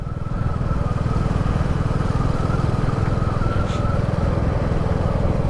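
A Royal Enfield Classic 350 motorcycle is ridden with a steady, loud single-cylinder thump, its pulsing exhaust beat holding even under faint wind noise.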